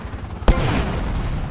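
A single sharp blast from the BIGBANG explosion cheat in GTA Vice City, a sudden loud boom followed by a rumbling, decaying tail.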